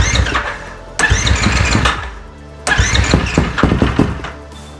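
Yamaha YFZ450R high-compression quad engine cranked twice, each start bursting into loud, close sputtering firing for about a second and a half before cutting out, no voices.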